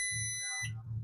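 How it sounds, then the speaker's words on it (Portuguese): A LiFePO4 battery sounds a high electronic beep as it is activated, a steady tone of about half a second that cuts off abruptly, close and alone. "Você viu que ela deu um bip?"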